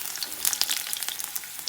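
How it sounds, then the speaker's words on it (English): Sage leaves frying in hot oil, a close, steady crackling sizzle with quick bursts of spitting pops. "Fry those on both sides"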